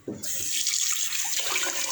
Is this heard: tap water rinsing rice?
yes